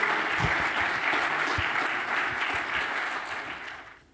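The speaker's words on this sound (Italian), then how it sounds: "Paolo Portoghesi, veramente lo accoglierei con un applauso" An audience applauds the architect Paolo Portoghesi as he is welcomed at an event honouring Maurizio Sacripanti, steady dense clapping that holds for about four seconds and then fades away.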